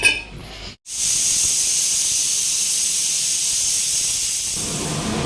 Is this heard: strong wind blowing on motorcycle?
no